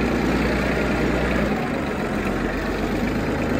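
A tractor engine idles in a garden, giving a steady low rumble that changes partway through into a rougher, broader mechanical noise, with no voices.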